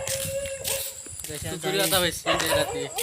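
A dog barks and yelps outdoors at night, sharp repeated barks close by mixed with people's voices talking and laughing over it.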